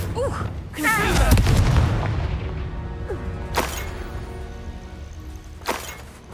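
Confringo fire spells blast in the video game Hogwarts Legacy, a heavy booming impact followed by two sharper cracking hits a few seconds apart, loud and close against a quieter background.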